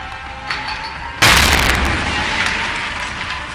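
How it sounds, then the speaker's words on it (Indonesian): A grenade explodes in a film action scene: one sudden loud boom, followed by a rumbling tail that slowly fades. "Dia mulai melemparkan granat satu-satu ke dalam ruangan."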